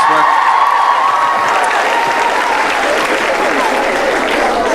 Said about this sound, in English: Can we give our maintenance staff a huge, huge round of applause for making all this work?